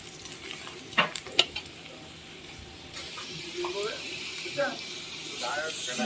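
Ginger garlic paste hits a hot pan of browning onions, giving a soft sizzle and hiss with a few clinks and stirring scrapes, while a voice talks over the cooking.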